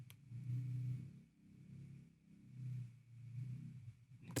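A neighbour's motorbike revs somewhere outside as a low, muffled engine rumble that swells and fades in several uneven waves. It sounds fairly distant and quiet.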